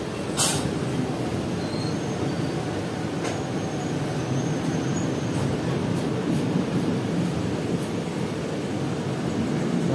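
A local Azimganj–Rampurhat MEMU passenger train crossing at Barala station, heard as a steady low rumble of rolling wheels and carriages close by, with a brief sharp squeal and faint clanks over it.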